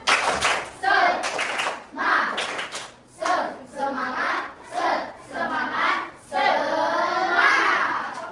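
Children in a classroom doing a group spirit clap, with short bursts of rhythmic hand-clapping mixed with loud chanting voices, repeated about seven times with brief pauses between rounds.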